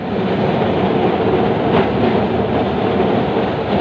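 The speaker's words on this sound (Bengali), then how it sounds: "ধীরে ধীরে ট্রামটি যাচ্ছে" A Kolkata tram rolls slowly along rails between Dharmatala and Gariahat with a steady loud rumble and faint wheel clatter, heard from on board, no voices.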